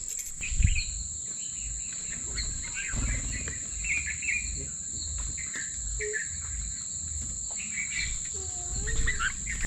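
Bulbuls chirp and call intermittently in short bursts over a constant high insect drone, with faint low rumbling in the background; no talking.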